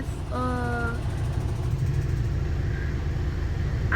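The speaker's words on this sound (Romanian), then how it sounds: "Gata, a pornit motorul, da?" A truck engine idles with a steady low rumble after starting, close and continuous, with a brief voice and a faint high tone over it.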